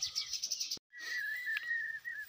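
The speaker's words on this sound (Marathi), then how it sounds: "एकदम पक्ष्यांचा चिवचिवाट" Thin, high bird chirps and whistles, with a rapid twittering run and a longer sustained whistle after a brief silence.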